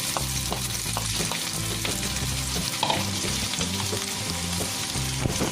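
Corn and sautéed onions sizzle loudly in a pan, a dense, even frying crackle lasting the whole stretch, with occasional stirring scrapes and a low steady hum beneath, no talk.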